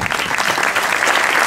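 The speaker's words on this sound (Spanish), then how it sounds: "dar un fuerte aplauso a nuestro técnico de sonido y luminotecnia, Carlos, que se lo merece." Audience at a flamenco song festival applauding loudly and steadily, a dense, continuous wash of many hands clapping close by throughout, with no voices standing out.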